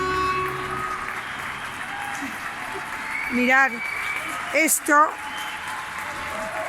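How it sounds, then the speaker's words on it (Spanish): Crowd applause outdoors in Valencia in tribute to healthcare workers, steady distant clapping throughout with someone speaking briefly over it. "aplausos, es por vosotros"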